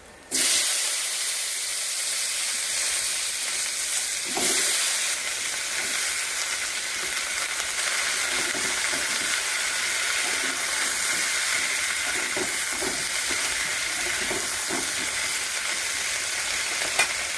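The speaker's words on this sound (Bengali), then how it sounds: "রসুনগুলো লাল লাল হয়ে গেছে, এবার বেগুনগুলো দিয়ে দেবো।" Eggplant pieces fry in hot oil with garlic already browned, giving a loud, steady sizzle throughout with occasional stirring scrapes and crackles.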